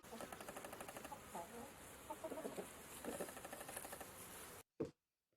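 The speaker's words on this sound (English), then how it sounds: "H for hen." A hen clucks in a rapid, busy stream of short throaty notes, moderately close, with a steady background hum beneath; the sound cuts off abruptly near the end, followed by one brief soft thump.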